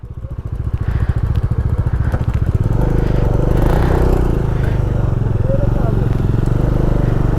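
A motorcycle engine runs loud and close on a high mountain pass road from Hanle toward Umling La, with a steady rapid thumping throb that settles into an even drone.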